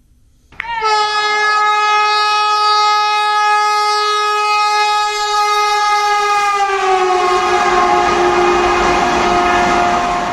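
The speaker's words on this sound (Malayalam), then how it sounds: "പാലക്കാട് ജംഗ്ഷൻ റെയിൽവേ സ്റ്റേഷനിലെ രണ്ടാമത്തെ പ്ലാറ്റ്ഫോമിൽ വന്ദേഭാരത് ട്രെയിൻ വന്നെത്തിയത്." A Vande Bharat train pulls into platform two at Palakkad Junction railway station, its loud, sustained multi-tone horn sounding close and continuously for about ten seconds.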